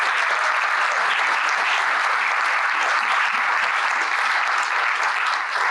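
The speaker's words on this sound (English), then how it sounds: "A big round of applause." Loud, dense applause from a conference audience at a summit panel, honoring two trip leaders, with a full, even roar of many hands sustained without a break.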